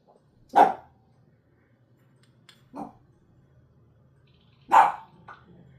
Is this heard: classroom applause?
no